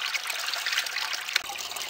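Water trickles and splashes steadily through a gold-mining cleanup sluice outdoors, a continuous close bright rush with no talk.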